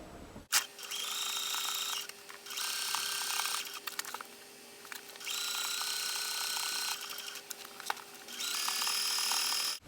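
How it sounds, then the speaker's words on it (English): A sewing machine runs a line of stitching along a seam of a maxi dress, in several steady whirring bursts separated by brief pauses, close up and with no voices. "I'm just going to stitch right along"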